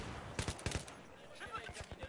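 Gunfire from a Battlefield 3 match comes as short bursts of sharp shots, several in quick succession, fairly faint in the mix, with a player's voice talking over part of it.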